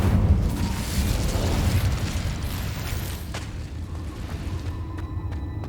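An Incendio fire spell cast in Hogwarts Legacy on PC, a rumbling burst of flame with a low roar that gradually fades, followed by lighter mechanical clicks and small pops.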